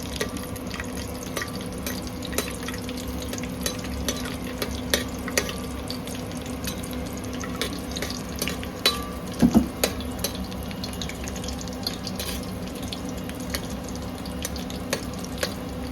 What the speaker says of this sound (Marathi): ते हे आपल्या गरम झालेल्या तेलामध्ये जरा फ्राय करून घ्यायचे